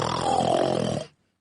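A narrator imitates a sleeping man's snore with his voice: one long, rough, rasping breath lasting about a second, close and fairly loud, then silence.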